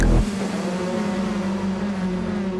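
Race cars in the WEC endurance racing video game, a steady loud engine drone and whine at close range after a brief low thump at the start, with no talking.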